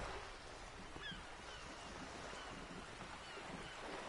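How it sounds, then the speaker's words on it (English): Steady wind by the sea in the game Disco Elysium, a soft continuous rush with faint fabric flutter from a sail overhead, low and even throughout, no voices. "The wind flaps the sail above her."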